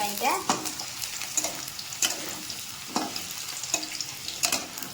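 Potatoes frying in hot oil for a mushroom curry, a steady sizzle broken by several sharp stirring scrapes and clatters spaced through the clip, close and fairly quiet, with no talking.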